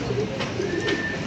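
A chhapda pigeon cooing close by, soft throaty coos repeated over a constant background hiss, with no one talking.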